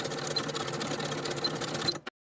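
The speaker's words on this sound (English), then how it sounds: "Take it to your sewing machine and zigzag stitch to secure." A sewing machine runs a zigzag stitch to secure overlapped short ends of an elastic band, a close, steady mechanical whir that stops abruptly at the end.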